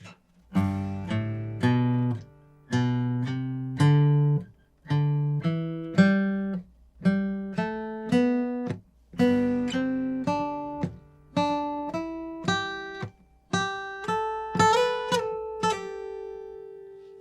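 An electric-sounding guitar plays melody, rhythm and harmony together in a steady pattern of plucked phrases and strummed chord hits, each group of notes ringing and decaying, clear and close with no voices.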